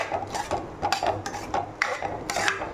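Potatoes and a large drumstick tossed in a pot for chicken kulambu, giving repeated scraping and clinking of a spoon against metal in an uneven rhythm, close and moderately loud, with no talk.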